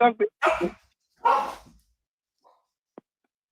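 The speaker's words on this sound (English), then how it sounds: "you got all the dogs barking now" Dogs bark in bursts at the start, several sharp barks close together, then a pause and a couple of faint, brief yips trailing off.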